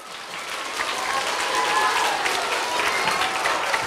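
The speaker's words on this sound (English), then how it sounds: "Let's give him a round of applause." Steady, full audience applause fills a school event at an elementary literacy and music program, dense clapping holding at an even level throughout with no pauses.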